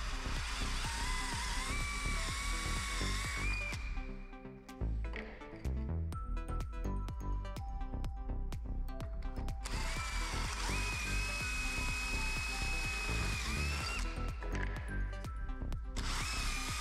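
A power drill bores holes into a solid wood stair stringer, grinding loudly and steadily in repeated bursts with a brief pause near the middle, close and without speech.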